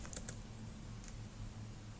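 A few faint, light keystrokes sound on a computer keyboard, sparse taps against a quiet background hiss.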